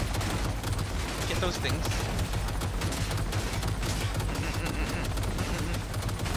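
Rapid automatic gunfire in Cyberpunk 2077 rattles continuously throughout, dense and steady beneath a heavy wash of game noise, with a voice speaking briefly over it.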